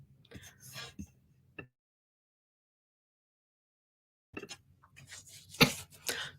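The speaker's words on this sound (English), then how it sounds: "Sorry, little cough." A short throaty cough or throat clearing close to the mic, with a few soft bumps and a long silent stretch.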